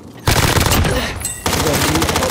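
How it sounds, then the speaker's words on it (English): Rapid automatic gunfire bursts in the Call of Duty: Modern Warfare Warzone video game, loud and close, with a brief pause between two sustained volleys and faint voices underneath. "Taking fire"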